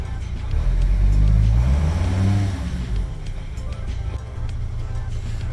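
A Mercedes Sprinter van engine with a suspected bad MAF sensor and EGR fault code revs up close by, a low rumbling rise that peaks and eases back to a steady idle.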